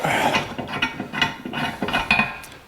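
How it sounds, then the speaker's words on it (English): A sacrificial bolt being turned out of the rear tire carrier of a 1982 Jeep CJ7, with a close series of rhythmic ratcheting clicks and metallic scrapes. "We can take this sacrificial bolt out"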